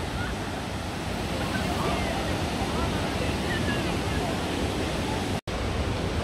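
Broadband roar of the waterfalls in Krka National Park, a steady dense rush of falling water heard close and loud, continuous throughout with one brief dropout near the end.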